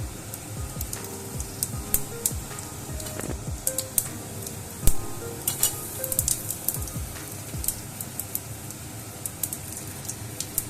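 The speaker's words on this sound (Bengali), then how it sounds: "শুকনো লঙ্কাটা ভালো করে ফ্রাই হয়ে গেলে আমি দিয়ে দিচ্ছি 1 চামচ গোটা জিরে।" Whole cumin seeds and dried red chilli sizzling in hot oil, a busy crackling sizzle with frequent sharp pops and spits throughout, close and fairly loud, with no voices.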